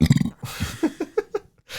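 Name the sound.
burp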